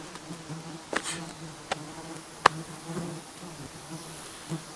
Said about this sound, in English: these flies constantly buzzing around me